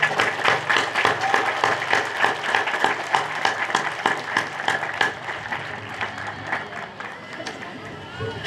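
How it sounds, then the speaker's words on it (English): Applause from an audience at an 8th grade recognition evening, honoring the teachers and school staff; steady mid-level clapping with crowd noise runs throughout, easing slightly toward the end. "so I'd like to give them a round of applause."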